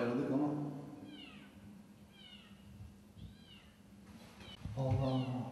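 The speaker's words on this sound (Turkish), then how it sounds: "kedi sesi var" A kitten crying at night, several faint high meows spaced about a second apart, with people talking nearby at the start and end.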